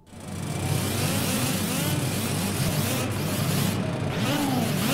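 A race car engine in the racing game Project Cars revs and holds at high speed, a steady loud drone with rising and falling pitch sweeps from gear changes, no talk over it.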